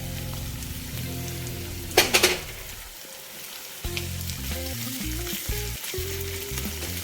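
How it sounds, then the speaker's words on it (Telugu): Ginger garlic paste fries with softened onions in a pan, a steady close sizzle with a brief sharp burst of spitting as the paste lands, then a quieter hiss with faint stirring. "ఈ అల్లం వెల్లుల్లి పేస్ట్ కూడా చక్కగా ఎర్రగా వేగాలన్నమాట."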